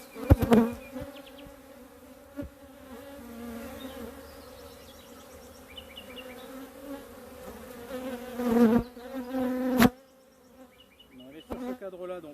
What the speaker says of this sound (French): vous ne devez même plus rien entendre tellement les abeilles sont sur le téléphone.